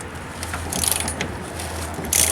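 A socket wrench ratchets on a bolt during cab removal on a C10 restoration, close rapid clicking bursts in short runs, with no voices.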